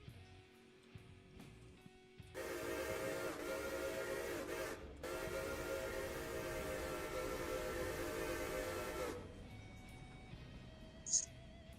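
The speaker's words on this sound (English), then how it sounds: "we'll have to run around the train and just shove it in" A logging train in the modded Railroader video game gives a long, steady whistle blast, broken by a brief gap, over a low rumbling engine, then fades to quieter running noise.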